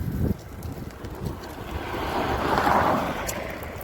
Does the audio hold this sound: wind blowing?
yes